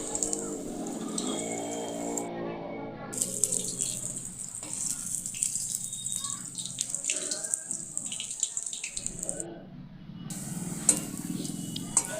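Bread chops frying in a pan on the stove, giving a steady bright sizzle with some bubbling throughout, while a voice talks over it at the start and end.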